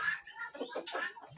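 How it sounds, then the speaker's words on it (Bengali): Fighter roosters and hens at a mini-zoo style farm cluck in several close, repeated bursts, one after another with no talk. "ফাইটার মোরগ আর মুরগি"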